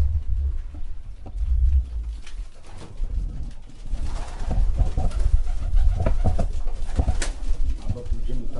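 Pigeons coo steadily inside a pigeon loft among the cells, with rustling and wing movement close by and occasional talk from people standing among the birds.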